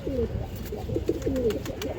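Pigeon cooing at a pigeon market, a steady run of soft, throaty coos repeating close by over a low murmur of background noise.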